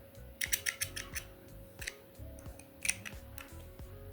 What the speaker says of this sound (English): this is a cutter that you'll use to cut your yarn